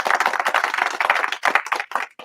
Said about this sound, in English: A round of applause for this man,